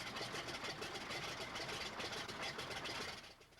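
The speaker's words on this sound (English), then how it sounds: "These days, the single-engine aircraft fly around the country performing in air shows." Single-engine Stearman biplane, a WWII-era trainer now flown at air shows, its engine droning steadily and loud throughout with a rough pulsing texture, easing off slightly at the very end.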